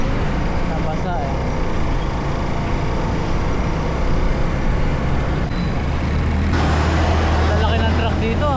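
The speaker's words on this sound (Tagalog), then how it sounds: "Lalaki ng truck dito ah. Dumadaan din pala mga dump truck dito." Large dump trucks rumble past on a road in New Zealand, a steady heavy low engine drone that swells louder near the end, with people chatting over it.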